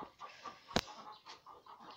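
Farmyard hens cluck in short, scattered calls at moderate distance, with one sharp, bright burst partway through and no talking.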